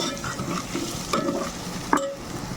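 A spoon stirs colocasia (taro) curry in a pan, making close, repeated scraping strokes over a soft simmering sizzle, with a couple of sharper scrapes against the pan. No voices are heard.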